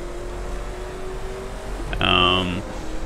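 Car engine in the racing video game The Crew, a steady droning hum with a brief louder rise partway through, running under a voice talking over it.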